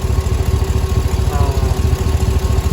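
A 6.0 LQ9 V8 engine, after a valve job, lifter replacement and broken manifold bolt repair, idles steadily up close, its deep, loping pulse rumbling evenly throughout.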